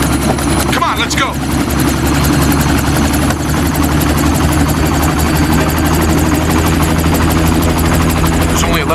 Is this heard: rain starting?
no